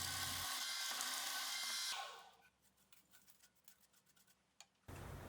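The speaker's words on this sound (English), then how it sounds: "Next, I'll drill a second hole that will intersect with the previous one." Drill boring a second intersecting hole in a metal part for a lathe ball turning attachment, a loud steady whine for about two seconds that winds down, followed by faint ticks and a final burst.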